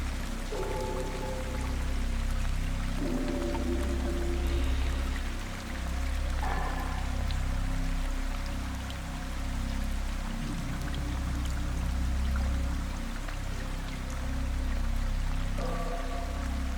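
Light rain falling steadily as a continuous, even wash with a low rumble beneath it and occasional trickling drips, lasting the whole stretch without speech.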